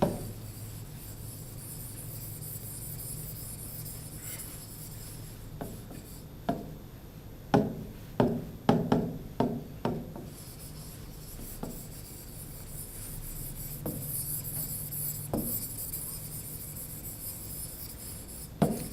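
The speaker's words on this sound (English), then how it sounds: "We erase this one." Writing is wiped from a board during a maths lesson, heard as faint rubbing strokes that build into a cluster of brisk scrubbing sweeps midway, then a few scattered later swipes; no talking.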